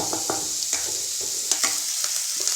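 Onions fry in a pan for a vegetable sandwich, a steady close sizzle broken by a series of quick spatula scrapes and taps at an uneven rhythm.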